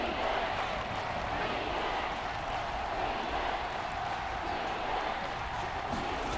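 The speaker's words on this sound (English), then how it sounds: "The crowd is alive in Arrowhead" A packed stadium crowd at Arrowhead during a 2022 NFL game between the Chargers and Chiefs keeps up a steady, far-off broadband roar that neither swells nor drops.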